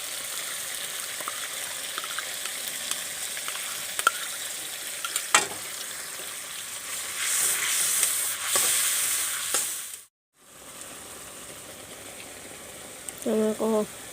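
Tomatoes and garlic paste sizzle and fry in a pan for a vegetarian raw banana curry, a steady close hiss with occasional stirring scrapes, a brief break, then frying resumes.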